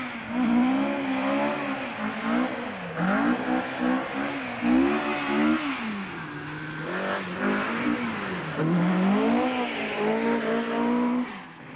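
Rally cars race along the twisty tarmac spectator stage of the 1978 RAC Rally at Bewdley Safari Park, engines revving up and down repeatedly through bends with rising and falling pitch, fairly close and alone without talk.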